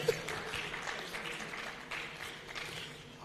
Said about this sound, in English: a round of applause for Dr. 𝐃𝐚𝐭𝐞.